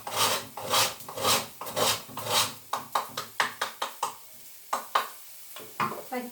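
Frozen ginger being grated lightly by hand, a series of close rasping scrapes that start in slow, heavier strokes and turn into quicker, shorter, fainter strokes, with brief pauses between them.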